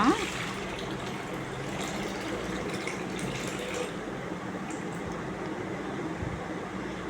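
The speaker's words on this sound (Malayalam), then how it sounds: "ആ മൺചട്ടിയിലേക്ക് കുടുകുടാ വെള്ളം ഒഴിച്ചു കൊടുക്കുക" Water pours into an earthen clay pot for cooking tapioca, a steady, moderately quiet stream that runs continuously after a brief louder splash at the start.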